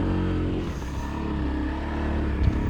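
A Honda CRF250L dirt bike engine revs continuously while the rider holds the throttle over rocky single track, a loud, close, sustained drone with no voices.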